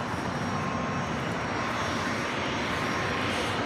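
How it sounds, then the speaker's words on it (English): A Japan Airlines Boeing 787-9 Dreamliner jet at Los Angeles International Airport, bound for Tokyo Narita, produces a steady broadband engine roar. The roar holds at moderate level throughout with no talk. "Japan Airlines Flight 61 heading to Tokyo Narita. It's a 787-9 Dreamliner."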